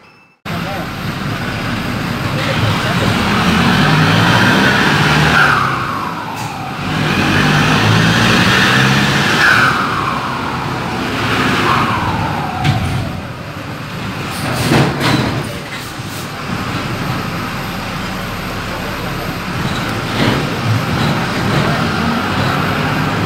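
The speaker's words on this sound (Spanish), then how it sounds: "Ahí está con el escape semidirecto." A Cummins 4BT diesel engine in a JAC 1063 truck with a semi-direct exhaust and a turbo fitting, droning steadily and loudly with a few revs rising and falling, while people talk nearby.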